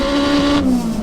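A turbocharged all-wheel-drive Honda DC5 Type R with a sequential gearbox launching hard, its loud, close engine note holding a high tone and then dropping sharply partway through as it shifts.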